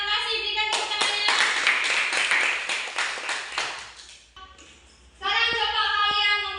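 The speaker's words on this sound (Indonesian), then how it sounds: "Berikan tepuk tangannya." A group, apparently students in a classroom, claps hands briefly in a few seconds of scattered rhythmic clapping, interrupted and followed by tonal voice or music-like sounds.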